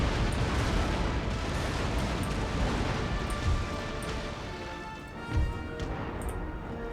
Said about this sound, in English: so more broadsides going